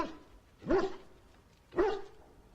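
A dog in the video game Dragon Age: Origins barks twice inside a castle full of soldiers. The barks are sharp, fairly close and about a second apart, with no talking.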